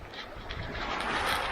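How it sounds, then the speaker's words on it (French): Wind rushes over a sailboat at sea on an Atlantic crossing from Marigot to the Azores as it picks up slightly through passing squalls, a soft, steady, faint broadband whoosh with gentle swells in strength. "Le vent a accéléré un petit peu."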